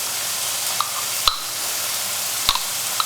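Madras curry paste being stirred through vegetables in a pot over a steady background sizzle, with a couple of sharp utensil clinks against the pot.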